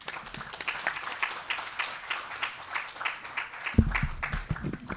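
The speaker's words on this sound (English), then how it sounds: "let us give Prof. Mansor another round of applause, please" Scattered applause from an audience after a university talk by Prof. Mansor, individual claps pulsing unevenly and fairly quiet, with a louder burst near the end.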